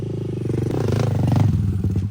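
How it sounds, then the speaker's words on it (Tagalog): A motorcycle engine roars and revs close by on a trail, loud and rough with a rising pitch, along with some clattering. "Direto na sunog ang motor ni Kinkin oh."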